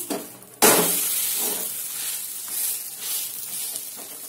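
Jowar thalipeeth sizzling as it cooks in a pan, a steady bright hiss that jumps up sharply after a brief quieter start, then swells and ebbs in gentle waves.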